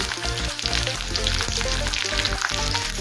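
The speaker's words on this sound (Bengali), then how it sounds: "পেঁয়াজ ক্যাপসিকাম হালকা করে ভেজে নিচ্ছি" Onion petals and capsicum frying lightly with green chillies and a little salt in a pan for chilli egg, a dense, steady sizzle with scattered crackles and faint stirring scrapes, close and continuous with no talking.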